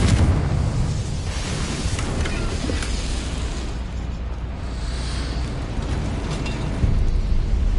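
Confringo fire spell blast in Hogwarts Legacy, a loud, sustained booming roar with a rushing low-heavy rumble and crackling bursts, continuous and close with no talk.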